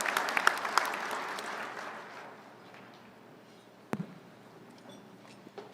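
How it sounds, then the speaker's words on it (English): Luncheon audience giving awardees another round of applause, clapping that starts fairly strong then thins and fades to scattered faint claps, with one sharp knock near the end. "Ladies and gentlemen, let's just give our awardees one more round of applause for their contributions."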